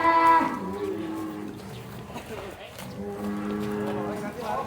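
A large farm cow moos twice, a loud harmonic call at the start and a second long moo near the end, close by with low background noise.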